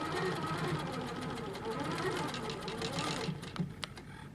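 Handi Quilter longarm quilting machine stitching a quilt border, a steady fast mechanical stitching hum with a regular rapid needle beat, close and continuous, ending with a few clicks as it stops.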